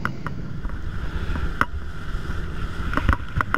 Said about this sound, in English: Taking our boat ride to one of the other spots.